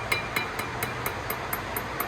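Hammer tapping over the locking tabs of a flywheel bolt retainer on a Ford Barra SOHC engine, eight light, evenly spaced metallic taps at a steady rhythm, close and alone.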